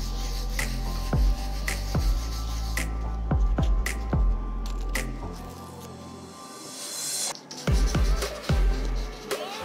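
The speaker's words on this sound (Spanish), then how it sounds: "vamos a lijar en forma circular" Close scratchy rubbing of sandpaper moved in circles, a continuous rasp with repeated sharp ticks, a brief lull partway through, no voices.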